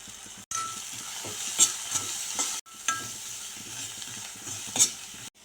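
Onions and tomato fry with salt and chili in a pan for an amaranth-leaf stir-fry, a steady close sizzle with intermittent spoon stirring and a couple of brief cutoffs, no voices.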